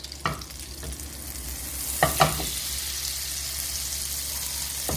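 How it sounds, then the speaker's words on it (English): Sweet potato gnocchi sauté in olive oil in a skillet, giving a steady soft sizzle with a few faint clicks and scrapes from stirring, without any talk. "The next step is to saute them in a skillet in the olive oil that I put aside earlier"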